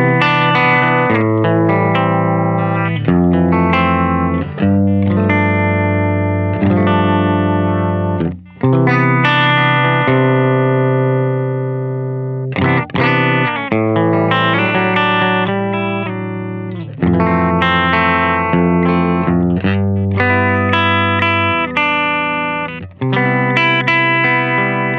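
Overdriven electric guitar played through a Balthazar Cabaret MKII amp, first on single-coil then humbucker pickups, ringing chords and phrases with short pauses between, loud and alone without talking.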